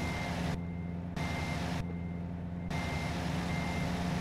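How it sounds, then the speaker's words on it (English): Reversing beeps from a truck in American Truck Simulator repeat at a steady, evenly spaced rhythm over a constant loud engine drone, with no talking. "I'm sure this truck's super loud right now."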